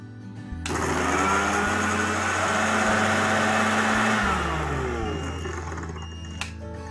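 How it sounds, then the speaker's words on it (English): Whole spices with cumin, red chili powder and turmeric powder are ground to a coarse powder in an electric grinder: a loud, steady motor whir starts near half a second, holds for about five seconds, then winds down. "I'm going to grind this into a coarse powder."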